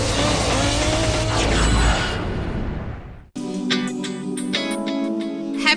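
Cars in the Tour Auto road rally through the French countryside roar past with loud engine noise that fades out, then the sound cuts to a different, busier scene of engines and clatter.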